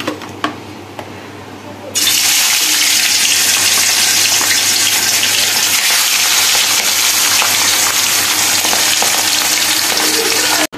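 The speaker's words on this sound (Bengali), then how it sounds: "তো কড়াইতে তেল গরম হয়ে গেছে, বোয়াল মাছগুলো ভেজে নেবো।" Boal fish fries loudly in hot oil in a wok, an intense crackling sizzle bursting in after a quieter start and holding steady to the end.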